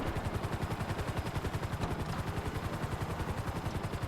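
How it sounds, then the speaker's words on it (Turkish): Rapid, continuous automatic gunfire of explosive bullets in GTA 5, dense, rhythmic bursts that sound like synthetic game effects, steady and loud throughout with no voices. "Bunlar da patlayıcı mermidir herhalde. Patlama efektleri falan çok güzel."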